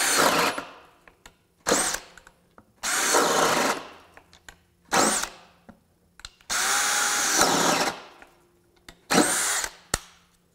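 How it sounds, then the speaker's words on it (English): DeWalt DCD791 cordless drill boring holes in wood with a 1.5-inch spade bit, several bursts of high whirring and grinding, some short and one long sustained run, with quiet gaps and clicks between. "And here is the DCD791 with 1½-inch spade bit."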